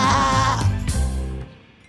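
Sheep bleats sung within a French children's nursery song, a voice mimicking the animal's baa over a bright musical backing, several short bleating notes before the tune fades out.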